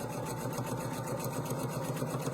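A Pfaff sewing machine runs a seam along long quilt strips for rail fence blocks, producing a soft, steady, fast rhythmic whirring hum that continues without a break.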